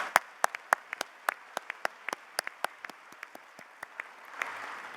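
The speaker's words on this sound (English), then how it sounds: "Please join me in a round of applause for these supporters." Sparse applause from a conference audience at a medical society meeting, about two dozen distinct, fairly quiet claps at an uneven rhythm over a soft background.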